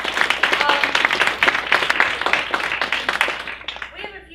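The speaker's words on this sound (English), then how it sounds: "Round of applause for everybody." Audience at a writers' craft lecture breaks into dense, sustained applause with many hands clapping at once, loud and close, then trailing off near the end.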